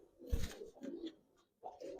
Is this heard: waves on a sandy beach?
no